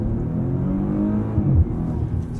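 A 2020 Maserati Quattroporte S in sport mode at full throttle from a slow roll, its engine giving a loud, steady low rumble that swells into a rising growl partway through.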